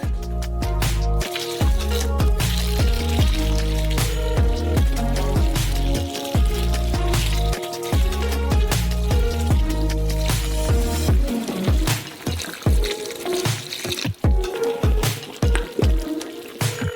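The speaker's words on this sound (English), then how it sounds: "Now you just need to pour in 8 liters of hot milk." Eight liters of hot milk pour into a caramel mixture in a large pot for giant Snickers ice cream, a continuous heavy liquid rush with sloshing and splashing, loud and close, with no talking.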